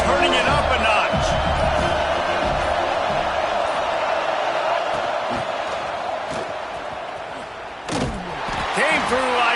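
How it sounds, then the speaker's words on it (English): A roaring crowd in a packed stadium during an NCAA college football video game, a steady loud wash of noise with a sharp thump near the end and a commentator talking over it. "this crowd is turning it up a notch"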